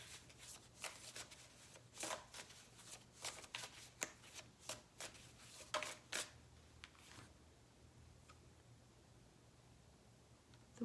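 Tarot cards being shuffled by hand in a series of quick riffling bursts, crisp and close, tapering off to quiet in the last few seconds, with no talking.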